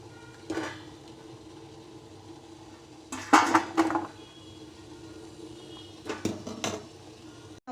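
Boiled potato pieces are scooped from a pot while making French fries, heard as a few sharp metal clanks and scrapes of a utensil against the pot in short clusters, with quiet gaps between them.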